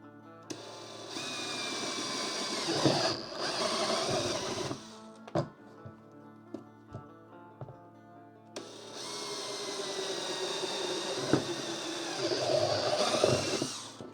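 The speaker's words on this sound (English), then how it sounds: "Got my 2 holes drilled right there." Power drill boring two holes in a DIY battery box for fishing, boating and camping, heard as two sustained whining bursts of several seconds each, separated by a pause with soft clicks and handling knocks.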